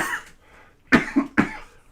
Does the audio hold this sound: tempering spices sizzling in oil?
no